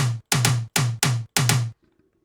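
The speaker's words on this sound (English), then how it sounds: "And then we have an aggressive tom." Five loud, aggressive future bounce tom drum hits with booming low tones and bright attacks, evenly spaced, followed by a short quiet tail.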